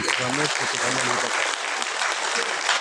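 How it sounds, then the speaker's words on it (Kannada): Dense, sustained applause from an audience at a felicitation ceremony for the new Karnataka Folklore Academy president, steady and fairly close throughout, with a voice briefly audible at the start. "ನೀವೆಲ್ಲ ಚಪ್ಪಾಳೆ ಹೊಡಿಬೇಕು"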